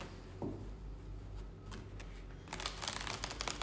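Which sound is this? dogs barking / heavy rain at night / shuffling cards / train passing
shuffling cards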